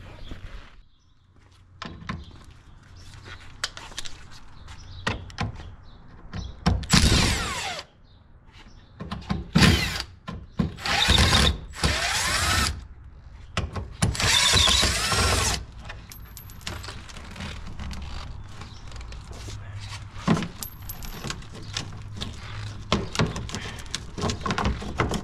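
Screws and clips come off a 2014 Mustang GT rear bumper, with bursts of power-driver whirring alongside clicks and plastic knocks at close range. Faint birdsong carries in the background and no one speaks.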